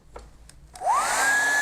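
A hair dryer switches on after a few soft taps and blows steadily, its whine rising in pitch as it spins up to a constant drone, drying a painted landscape held down on paper.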